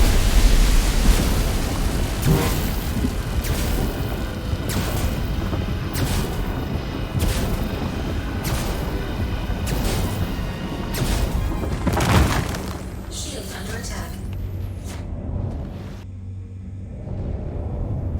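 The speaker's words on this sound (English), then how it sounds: "I broke all the parts of this rock." A big rock cracking apart under a mining laser in Star Citizen, a broad loud crashing rumble with several sharp bursts, fading toward the end.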